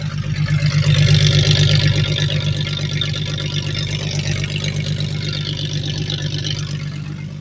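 A 1994 Jeep Grand Cherokee Laredo with a 4.0 inline-six idles after a very cold start, a steady close low rumble with a slight rise in revs early on, no voices.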